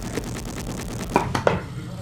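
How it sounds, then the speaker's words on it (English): A knife chops ingredients for a tuna salad on a cutting board in a home kitchen, giving a quick run of close, evenly spaced taps followed by a few louder, sharper knocks. "So just chopping it up."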